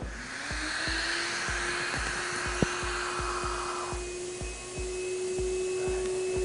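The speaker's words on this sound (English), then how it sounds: "Let's take it to the highest height that our machine can go to, 8'7", dropping the 11 first." A drop test machine raising an iPhone 11 to an 8'7" height, heard as a steady whirring motor hum with rhythmic ticking clicks about twice a second and one sharp click partway, close and with no talk.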